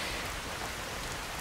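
Steady rain in Skyrim, a dense, even hiss of drops falling on surfaces, continuous and fairly loud with no other sounds.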